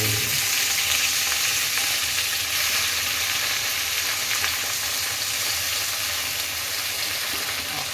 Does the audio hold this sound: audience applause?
no